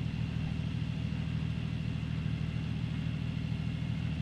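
A car engine in Farming Simulator 19 labors steadily while pulling a load, a low constant drone with a slight periodic throb, alone with no talk.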